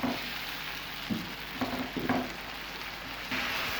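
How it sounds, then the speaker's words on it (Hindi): Onions and tomatoes frying in a pan give a soft, continuous sizzle with a few brief stirring scrapes and clinks, fairly quiet and steady throughout. "टमाटरों को भूनते हुए 1 से 2 मिनट हो चुके हैं।"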